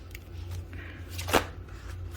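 Tarot cards being shuffled by hand, a quiet riffle and soft slap of the deck with one sharper snap near the middle, faint and close against a low background hum.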